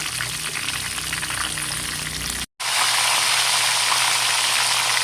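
Loud, dense frying hiss and crackle of pakoy fish in hot oil, briefly cutting out midway before resuming even stronger.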